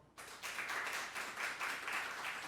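An audience at a career talk applauds, a faint but steady patter of many hands clapping that swells slightly and continues throughout.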